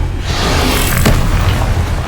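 A Confringo blasting spell goes off in Hogwarts Legacy as a loud, close, broadband explosion with a rumbling boom and a brief whooshing burst, filling the whole moment.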